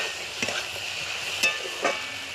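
Chopped tomatoes go into a pan of cooking flat beans for a spicy winter vegetable curry, giving a few soft knocks and stirring scrapes over a steady low sizzle.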